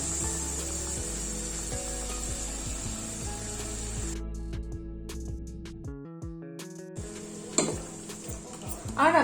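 A spoon stirs water and spice paste into a sizzling masala gravy in a pan for spinach egg curry, with soft scraping and clinks over a steady frying hiss.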